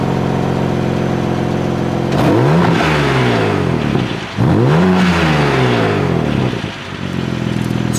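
A BMW engine with an M Performance exhaust in Sport Plus mode revs hard twice in quick succession, each rise climbing sharply then dropping back to a rumbling idle, loud and close with no talk.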